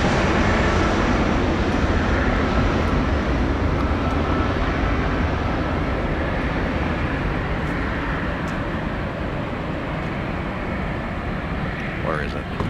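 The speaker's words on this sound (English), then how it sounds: "Delta landing." Delta airliner landing at Boston airport, with a loud continuous broadband jet roar that holds steady and eases slightly toward the end, heard from close by.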